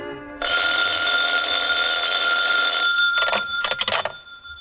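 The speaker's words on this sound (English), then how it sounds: "at 11 in the evening, my telephone rang" An old-time radio drama effect of a telephone bell ringing: a loud, steady electric ring lasting about two and a half seconds, then a few shorter broken bursts as it fades.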